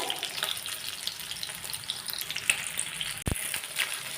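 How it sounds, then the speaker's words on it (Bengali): Bangda mackerel shallow-fries Marathi style in a pan, coated in spices and semolina. The sizzle stays close and continuous with a crackly, bubbling texture, and a single sharp pop or knock rises near the end. "এই মাছগুলোকে হালকা ভাজা করতে হবে"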